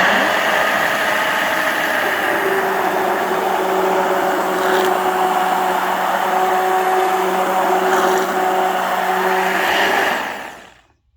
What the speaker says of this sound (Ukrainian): ми ці вишеньки подрібнемо чи комбайном за допомогою м'ясорубки, чи переб'ємо блендером.